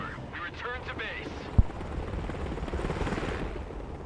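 Black Hawk helicopter in the video game Broken Arrow, a low rotor rumble swelling steadily with a sharp impact thud midway, under a voice speaking at the start.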